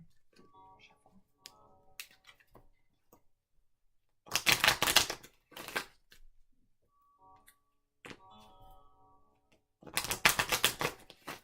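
A deck of tarot cards is shuffled in two bursts of rapid riffling a few seconds apart, close and crisp, with quiet ticking and soft taps in the gaps.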